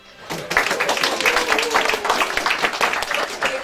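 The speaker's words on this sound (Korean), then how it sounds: "박수 주세요" A room full of people at a software engineering training project presentation breaks into sustained applause, dense clapping continuing steadily throughout.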